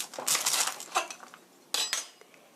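A knife cuts young radish for kimchi in a few quick, close clattering strokes, with two separate bursts of cutting and no talking.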